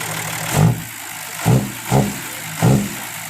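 A truck's 6HH210 diesel engine idles during fuel pump tuning, its steady rumble broken by four periodic revving surges, close and loud with no talking.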